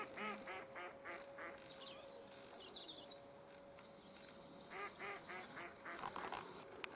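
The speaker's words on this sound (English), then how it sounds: "There's Mr. Duck quacking away" Ducks quack in repeated short bursts at a lakeside shoreline countryside walk, fairly faint and a little distant, with quiet gaps between calls.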